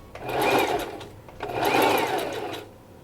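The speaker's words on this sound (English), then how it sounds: "this is my first time sewing it on the sewing machine" A sewing machine runs in two bursts of rapid stitching, a whirring hum that speeds up, holds, then slows, with a short pause between.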